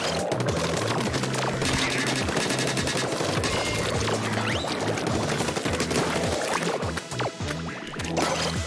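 A weapon fires continuously in Splatoon 3, a dense rapid stream of wet, splattering shots repeating loudly over a thumping game music beat throughout the clip.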